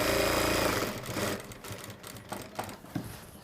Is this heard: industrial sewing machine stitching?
yes